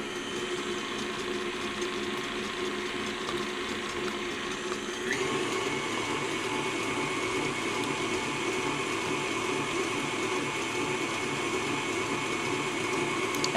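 Electric hand mixer beating chocolate cake batter with eggs, a steady whirring motor with a gear-like rattle that jumps to a higher, louder speed partway through and runs on continuously.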